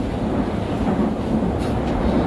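A train runs on its rails, giving a steady, close rumble with a dense low roar throughout and no voices.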